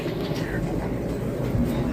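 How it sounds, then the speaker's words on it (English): An airport train rumbles steadily on its track, a continuous low, close drone with faint clatter and no clear break. "So we want to get on a train to go downtown."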